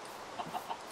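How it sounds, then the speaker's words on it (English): A chicken clucks softly in Minecraft with three short, quick clucks in a row, faint against a quiet background and with no talking. "I want to kill that chicken in the harvest."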